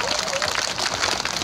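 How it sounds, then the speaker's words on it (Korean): Brief burst of audience applause at an outdoor seafood festival at Samcheonpo port in Sacheon, Korea: many hands clapping together in a dense, steady patter at constant volume. "그 의미에서 박수 한번 크게 주셔."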